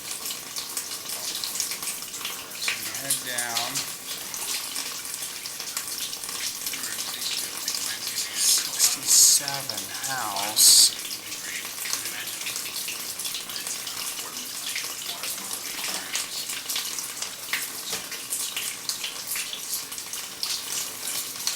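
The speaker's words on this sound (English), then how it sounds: "Start getting a little bit of water again here." Water trickles and splashes through a residential sewer pipe during a camera inspection, a faint steady flow with a few louder splashy bursts, and someone speaks briefly over it.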